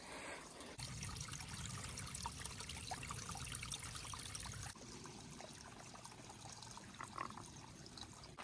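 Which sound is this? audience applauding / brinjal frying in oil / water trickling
water trickling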